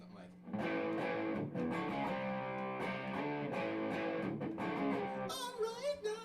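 An electric guitar with a heavy distortion effect plays sustained chords and notes, loud and continuous for about five seconds before trailing into a brief, wavering higher tone.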